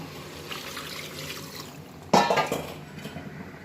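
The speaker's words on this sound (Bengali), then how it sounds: "কষানো হয়েছে আর পানি দেব" Water is poured into a pan of simmering duck meat curry, with a quiet background hiss first and then a sudden, close splash and gurgle that fades within about a second.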